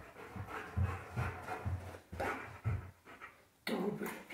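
A German shepherd dog pants rapidly and rhythmically during home training indoors, with steady close breathy huffs and a brief pause before the panting resumes.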